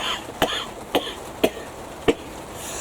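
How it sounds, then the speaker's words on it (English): A man with a throat infection coughs four times, short, harsh single coughs spaced about half a second apart, close to the mic against quiet background. "I laugh I cough like hell"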